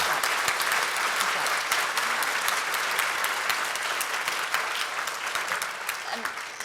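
An audience at the opening plenary of the Global Washington 2016 conference applauds Mary and Michael, a thick, continuous wash of clapping that stays loud and even before easing slightly toward the end.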